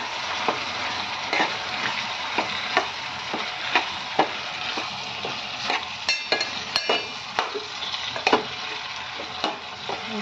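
Tomatoes fry in hot oil in a pan for a capsicum tomato curry, giving a steady bright sizzle throughout with regular scraping taps of a spoon stirring, close and fairly loud, no talking.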